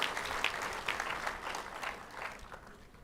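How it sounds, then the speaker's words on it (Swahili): Applause for a presenter at an ICT conference in Tanzania: a dense burst of clapping from a seated audience that starts strong and gradually thins out over a few seconds. "Naomba tumpigie makofi tena."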